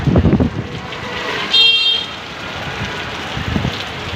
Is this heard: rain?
yes